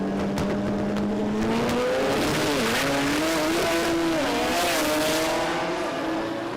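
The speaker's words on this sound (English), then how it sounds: "So we've got a stick shift in one lane, our Steve Ramsey and Kareem Amraz. I think we've got clutchless. Let's have a listen" Drag racing cars launch hard down the strip at the Garrett Brisbane Jamboree, one with a stick-shift gearbox. Loud, close engines roar continuously, the pitch climbing and dipping through gear changes, with a hint of tire noise.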